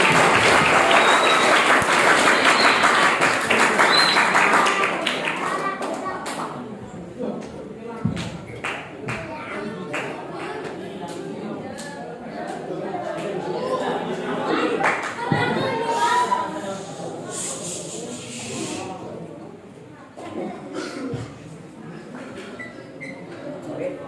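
An audience of Islamic boarding school students applauds at a muhadhoroh performance in Purbalingga, loud clapping at first that thins into scattered claps and crowd murmur with talk over it.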